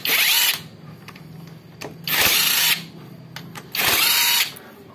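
A power tool loosens the clutch cover bolts on a Suzuki Satria FU motorcycle, running in three loud whirring bursts with quieter clicks and tool handling between them.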